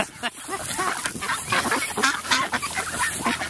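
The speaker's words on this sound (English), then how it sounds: "how about George Washington the duck?" A duck quacks in a rapid run of repeated nasal calls at close range, continuous and fairly loud with no talk over it.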